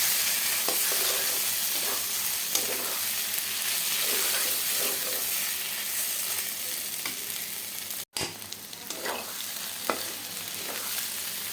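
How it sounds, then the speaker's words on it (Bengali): Green chili mash frying in a pan with salt and turmeric, a steady loud sizzle running throughout, broken by repeated scraping stirs and a brief dropout near the end. "এখন ভালো মতো মিশিয়ে নিচ্ছি, ভাজা ভাজা করে নিচ্ছি।"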